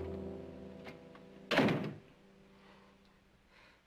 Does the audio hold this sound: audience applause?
no